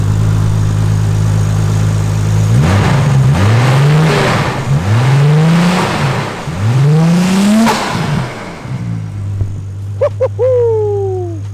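Nissan Silvia S15 engine idles, then is blipped through several loud, rising revs that fall back between pulses, settling to a steady idle with a few short high squeaks near the end.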